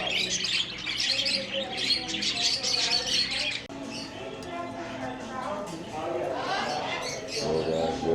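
Parrots and other exotic birds chirp and squawk constantly inside a Michigan bird shop, shrill overlapping calls filling the room as people talk nearby.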